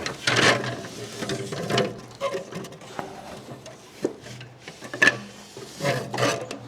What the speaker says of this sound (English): I'm gonna bolt the shroud back up right here